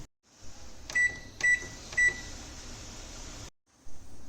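A microwave oven heating copra hums steadily, with three short electronic beeps from its keypad near the start, then a brief stop and the hum resuming, close and clear with no talking.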